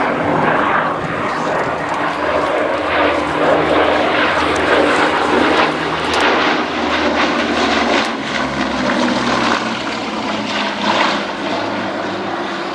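Bristol Blenheim engines drone loudly as the aircraft flies past at an Old Warden air display, a sustained propeller roar that swells and holds throughout.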